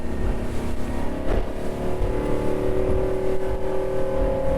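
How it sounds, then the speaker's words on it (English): A steady, loud motor drone of a Rand Escape 30 day boat's engine accelerating at speed, holding a constant pitch with a slight rise partway through. "There's plenty of poke from that engine,"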